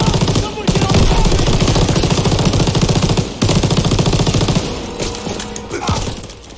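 Loud, sustained machine gun and rifle fire from the World War II video game Call of Duty WW2, rapid bursts rattling continuously with brief pauses, shouting voices faintly under the din.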